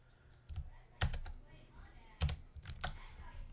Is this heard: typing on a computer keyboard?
yes